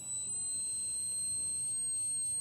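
A car tweeter in a Suzuki Forenza plays a steady high-pitched test tone of about 4,000 hertz. It sounds faint and continuous, with no break, over a low background hiss.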